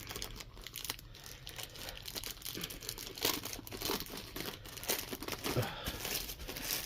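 A Diamond Art Club dust sleeve package being opened, with steady crinkling and crumpling of plastic and paper, plus a few sharper tearing rustles, close and moderately loud throughout.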